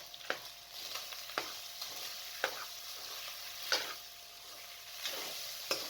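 Garlic and ginger fry in a pan, with a quiet steady sizzle broken by regular scraping strokes of a spoon stirring roughly once a second.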